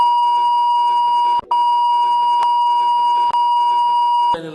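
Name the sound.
censorship bleep over speech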